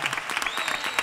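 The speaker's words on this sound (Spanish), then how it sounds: "¡Un fuerte aplauso!" A short burst of loud audience applause at a Christmas flamenco zambomba concert, brisk clapping lasting about a second.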